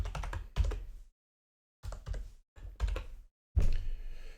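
Typing on a computer keyboard at a desk: several short bursts of close key clicks and taps with short pauses between, heard alone.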